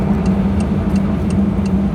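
Steady low tire and road roar from a Porsche 918 Spyder hybrid roadster cruising with the top open, with a faint regular ticking on top and no voices.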